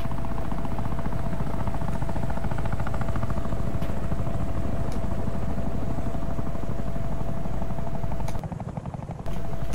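A Russian Mi-28 attack helicopter in the ArmA 3 game makes a loud, continuous rotor thrum and turbine whine, steady and close. It dips briefly near the end.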